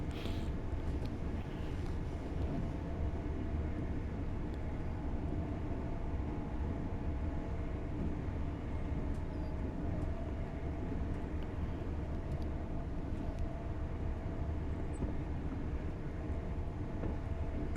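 In Train Sim World 4, a train on the Doncaster to Peterborough line coasts with power shut off, producing a steady low rumble and rolling rail noise that drones evenly throughout without speech.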